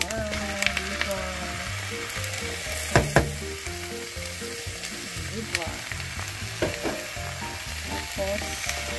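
Beef liver frying in a pan, a steady close sizzle with stirring clatter and scraping throughout, a couple of sharper knocks near the three-second mark, no talk.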